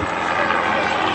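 A Robinson R22 helicopter drones steadily overhead during an aerial display, its engine and rotor forming a continuous, loud roar with no pauses.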